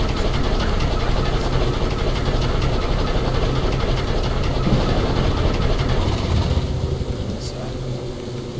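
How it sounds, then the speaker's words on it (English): A vehicle engine runs in the STALKER OGSE video game, a steady low mechanical rumble that fills the whole stretch and eases off slightly near the end. "Let's turn off the engine."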